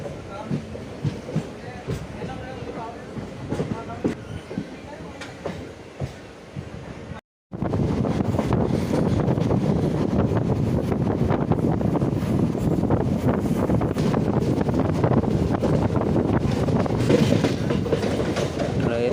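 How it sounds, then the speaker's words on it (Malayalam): A train leaves Ochira station on the Kollam–Kayamkulam line, starting with lighter rolling clicks, then after a brief cut a louder, dense rumble with wind buffeting and continuous clickety-clack as speed builds. "വണ്ടി ഓച്ചിറ വിടുകയാണ്"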